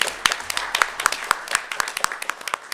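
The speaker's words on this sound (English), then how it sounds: "a round of applause for her, please." A small crowd at a school board meeting claps in scattered, uneven bursts, moderately close, the applause thinning toward the end.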